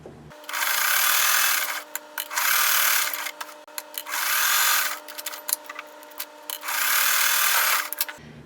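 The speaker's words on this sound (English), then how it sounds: "Right sides together, and you're just going to sew all the way around." Sewing machine stitching together quilt squares placed right sides together, in four sustained close bursts of steady mechanical whirring separated by short pauses with small handling clicks.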